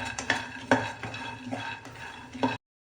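Peanuts dry-roast over a low flame, stirred in a pan. A spatula scrapes and rattles them in repeated close strokes, with a light sizzle underneath, then the sound cuts off abruptly.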